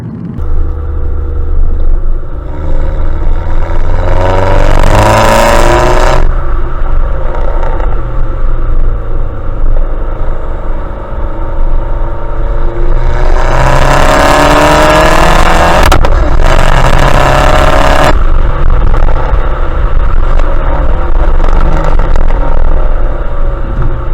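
A Stage 2 tuned Vauxhall/Opel Corsa E VXR engine drones loudly on the road, rising in two hard revving bursts with a rough, rumbling exhaust note between steadier cruising.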